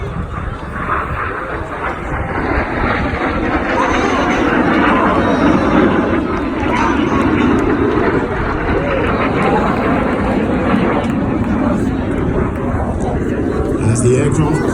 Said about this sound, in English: As the aircraft pull out behind us, the smoke goes off.